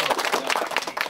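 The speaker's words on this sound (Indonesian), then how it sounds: "Tepuk tangan." A short burst of audience clapping at a political gathering, a few quick overlapping claps heard close and fairly loud for about a second.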